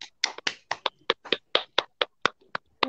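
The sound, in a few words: children clapping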